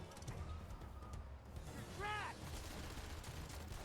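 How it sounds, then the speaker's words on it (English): Gunfire in the video game Blues and Bullets, bursts of shots crackling through a busy game soundscape with a brief ringing tone, heard at moderate level over steady background noise. "Why are we running into gunfire"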